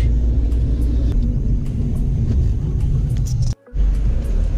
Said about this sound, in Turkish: Sağdan arabalar, soldan otobüsler.